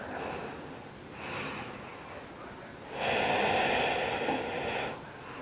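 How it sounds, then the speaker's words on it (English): Slow, deep breaths during a stretching exercise, heard as soft airy inhales and exhales with a louder, longer breath near the end, close and fairly quiet. "2 more breaths."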